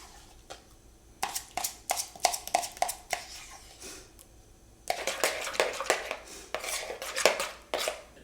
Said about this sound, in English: now we're gonna mix in a medium mixing bowl the mayonnaise